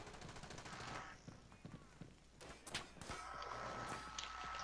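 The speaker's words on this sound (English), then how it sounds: "Someone's shooting at us, gamer." Shooter video game gunfire: rapid bursts of shots crack out in clusters over continuous game ambience, with footsteps and other game effects mixed in.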